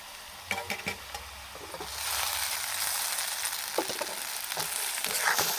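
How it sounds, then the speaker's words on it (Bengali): Chowmein is added to a pan of frying potato and onion, first with a few scraping clatters, then a loud steady sizzle with intermittent stirring knocks. "এবার এর মধ্যে আমি চাউমিনটা দিয়ে দেবো।"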